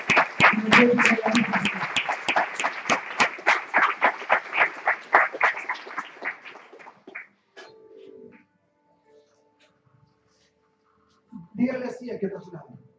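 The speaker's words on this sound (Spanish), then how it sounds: "vamos a darle un aplauso al Señor por estas maravillas" A church congregation applauds for several seconds with dense, loud clapping that fades out, followed by quiet and then a voice speaking.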